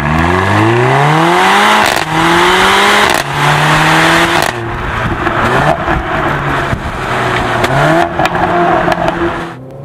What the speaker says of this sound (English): Every upshift is followed by pops and bangs. This is the option sport exhaust